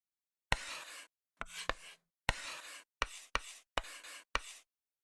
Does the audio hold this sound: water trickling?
no